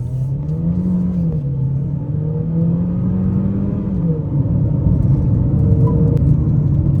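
A car engine revs hard under full acceleration while running on E20 petrol, with a loud, close, sustained drone whose pitch climbs, dips at a gear change, then climbs again.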